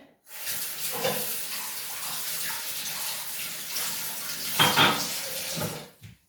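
Water pours steadily into a container of leek pickle with vinegar, salt and pepper, a continuous close splashing stream lasting several seconds and swelling briefly near the end.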